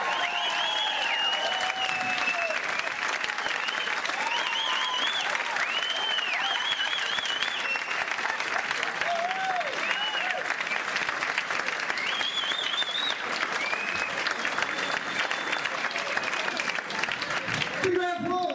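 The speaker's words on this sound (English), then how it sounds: "Big round of applause for Rhodes!" A comedy club audience at a stand-up show for Tom Rhodes breaks into loud, sustained applause with cheering and whoops, filling the room steadily for the whole stretch.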